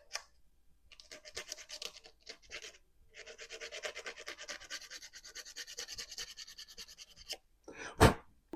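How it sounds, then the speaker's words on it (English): Sandpaper scratching off excess material from a scale model body panel of the Airwolf helicopter, in close, steady rubbing strokes with brief pauses, then a sharp louder scrape near the end. "let me just kind of sand off the excess on the part"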